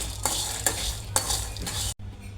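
Moringa (drumstick) leaves frying in a pan with a steady close sizzle, while a utensil stirs them in three or four distinct scraping strokes before a brief pause.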